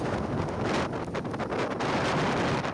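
Strong gusting wind from cyclone Ditwah in Sri Lanka, roaring and buffeting close to the microphone in a dense, continuous rush through coconut trees.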